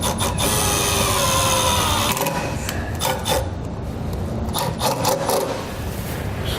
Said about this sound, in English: I'm going to start my self-tapping screw first.